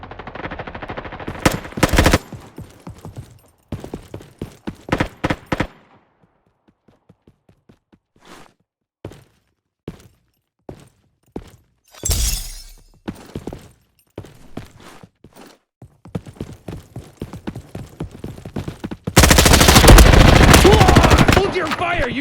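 Rapid bursts of machine gun fire during a hostage situation crackle in several clusters, sharp and close, with scattered single shots between and a dense, loud sustained volley near the end.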